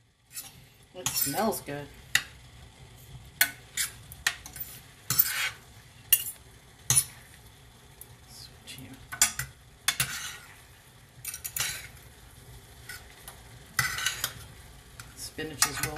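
Pasta with spinach tossed and stirred in a pan with a utensil, giving steady close scraping and clinking against the metal over a faint sizzle, while a person briefly speaks.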